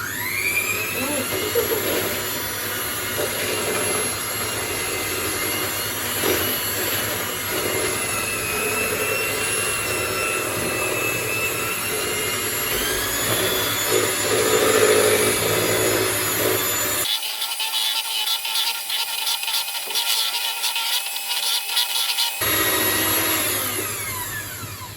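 Electric whisk beating chocolate fudge cake batter, a steady loud whirring drone that runs continuously, briefly drops away near the end, then resumes, with faint talk beneath.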